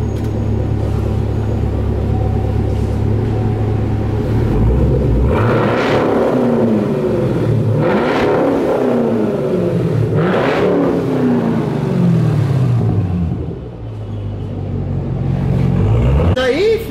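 A Chevrolet Camaro engine rumbles loudly throughout, revving up in several swells through a new, rough exhaust, with people talking over it.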